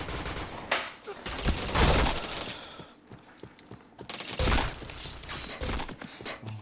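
Video game gunfire in two loud bursts of rapid automatic shooting, separated by a quieter gap of scattered single shots and clicks, all close and harsh.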